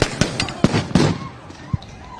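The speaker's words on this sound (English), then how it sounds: "We're hearing flashbangs go off." Flashbang grenades bursting at a protest outside a federal building, several sharp loud bangs in quick succession with a fainter later pop, and voices in the background.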